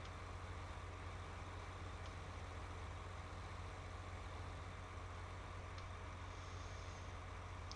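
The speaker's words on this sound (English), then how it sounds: "Let's wait till that tractor gets through here and then we'll back them back into it." Tractor engine idling in Farming Simulator, heard as a steady low, even rumble that is faint and unbroken throughout with no talk over it.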